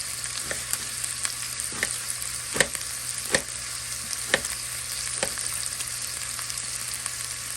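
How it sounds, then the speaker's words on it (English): Onions sauteing in bacon fat in a pot, with a steady broadband sizzle running throughout and occasional sharp clicks of a spoon stirring against the pot, no voices. "we're going to throw these onions in and let them saute for about 6 minutes"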